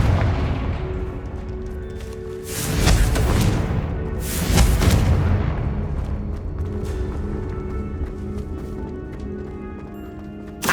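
The Confringo fire spell in Hogwarts Legacy sets off two loud, booming blasts a couple of seconds apart, each with a rumbling decay, amid lighter clattering game sounds.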